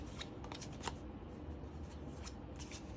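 A deck of cards being shuffled by hand, giving soft, steady riffling and flicking close to the listener, with faint background hiss and no talking.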